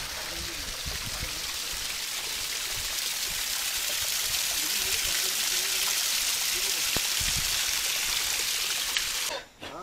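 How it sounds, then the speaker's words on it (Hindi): Steady monsoon rain falls during a trek to Harihar Fort, a dense continuous hiss that holds at the same level for nearly ten seconds before cutting off abruptly at the very end. "ये अभी ना मानसून बारिश हो रही है"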